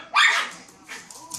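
Dogs play fighting, with one loud sharp bark up close followed by softer yips and grumbling barks that fade over a moment.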